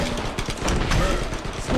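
Triple-shot gunfire crackles in the video game Attack of the Movies 3D, with dense, rapid bursts of shots over game noise, loud and continuous across a brief stretch.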